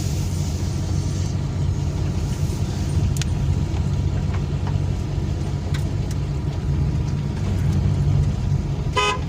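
A car creeps through narrow single-lane streets with a steady low engine drone, and a short horn toot sounds near the very end.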